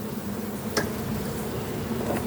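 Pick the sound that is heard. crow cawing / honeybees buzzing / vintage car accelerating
honeybees buzzing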